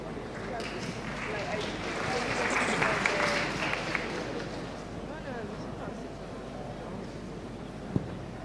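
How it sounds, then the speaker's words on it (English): Applause from an audience welcoming a robotics panel at a tech conference, a moderate, somewhat distant patter of clapping that swells and fades, with people talking over it. "Can we have a round of applause, please?"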